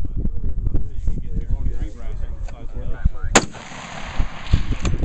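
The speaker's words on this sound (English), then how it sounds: "Seven rounds, Rob. Make them count." Gunshots ring out in a timed pistol shooting drill, with a sharp loud report standing out among the bursts. A voice calls out the time limit and round count over steady outdoor wind noise.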